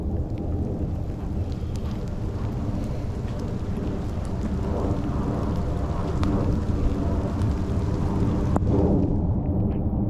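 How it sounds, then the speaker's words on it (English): Steady rain falls outdoors beside the high, fast-flowing Minnesota River, a continuous broadband hiss that swells slightly louder toward the end, with no voices. "This is a nice rain."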